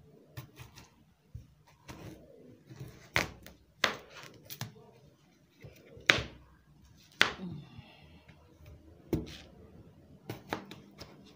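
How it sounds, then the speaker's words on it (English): A knife chops a cucumber on a cutting board in irregular sharp chops, spaced out over several seconds, close and moderately loud. "Then we'll cut the cucumber"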